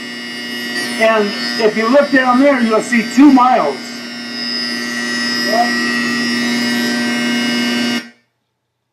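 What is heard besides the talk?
klystron hum in linear accelerator tunnel at SLAC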